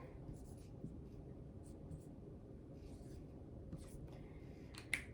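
A marker or pen scratches faintly and steadily as a math check mat is drawn out, with soft irregular strokes and a small tap near the end, in a quiet room.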